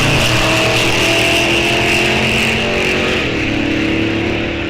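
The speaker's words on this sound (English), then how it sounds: "Big block Chevy powered 30 Coupe. Jamie Anderson, left side. Supercharged Mopar, right side." A big block Chevy powered 30 coupe and a supercharged Mopar '66 Coronet at a drag strip give a loud, sustained engine roar with a strong low drone, which eases slightly toward the end.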